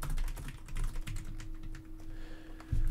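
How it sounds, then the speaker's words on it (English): Someone types on a computer keyboard while writing Markdown, a quiet, close series of irregular key clicks and taps, with short pauses and a heavier thump near the end. "look how I'm still typing in Markdown here"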